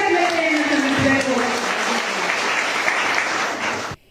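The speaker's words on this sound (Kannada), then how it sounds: "ನಿಜವಾಗ್ಲೂ ಆ ತಾಯಿಗೆ ನಾವು ದೊಡ್ಡದಾದ ಒಂದು ಚಪ್ಪಾಳೆಯ ಮೂಲಕ ಕೃತಜ್ಞತೆಯನ್ನು ಸಲ್ಲಿಸಬೇಕು" Sustained applause from a large audience thanking a woman who organised a rural development programme event, dense steady clapping with a faint voice at the start, cutting off abruptly near the end.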